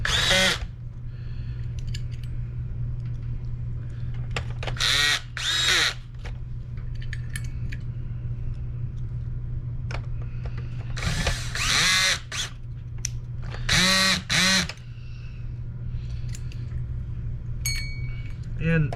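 Power drill driving screws back into a Shark NV752 vacuum, several short high whirring bursts of the motor separated by pauses, with small clinks of parts and a steady hum underneath, a voice talking between runs.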